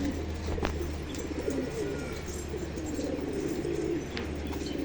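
Soft pigeon coos repeat at a distance over a constant low background hum, with a few faint chirps scattered through.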